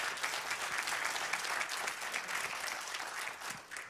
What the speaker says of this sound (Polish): Również poproszę o klaski.